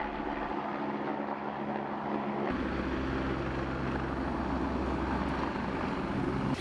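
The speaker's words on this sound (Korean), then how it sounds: "바로 헬기 이착륙 소음입니다." Helicopter idling and running on a landing pad beside an apple orchard, a loud continuous engine and rotor drone with a steady low hum throughout, heard nearby.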